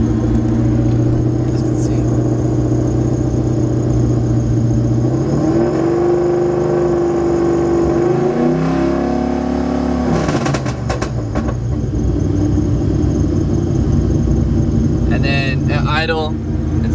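A 2-valve V8 car engine in a nitrous project build rumbles at idle, then rises in pitch as throttle is applied, holds the higher revs for a few seconds and drops back, with someone talking over it throughout.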